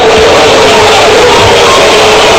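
Boxing arena crowd at an Omar Figueroa versus Jerry Belmontes fight, a dense, loud, continuous roar of many voices with scattered shouts, sounding unhappy with the recent rounds.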